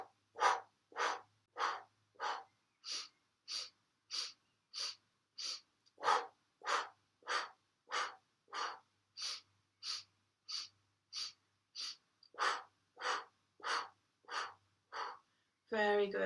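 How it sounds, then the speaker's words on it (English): Slow, deep belly breathing during a Kundalini kriya exercise, a steady series of about twenty-five even, breathy pulses at a quick regular rhythm, close and clear, with no talking over it. "keeping that breath going and just making sure that you're breathing into your belly"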